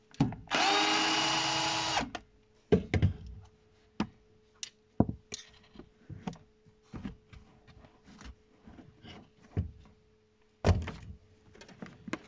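A Torx 20 bit driver undoes screws on the tail light of a Mercedes-Benz W211, beginning with a loud two-second buzz of a powered driver, followed by scattered clicks, taps and handling knocks and one more short burst near the end.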